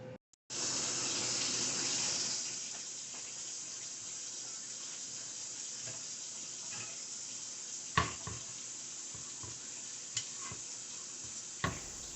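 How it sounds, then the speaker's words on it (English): A steady, hissing bubbling of potatoes boiling in water continues throughout, with occasional clicks and light knocks of a utensil against a pot. "The potato is boiling right now."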